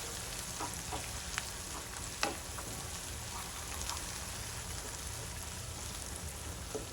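Green chillies fry in a pan, making a faint, even crackling sizzle with scattered light pops. It sounds close but quiet and carries on steadily with no talking.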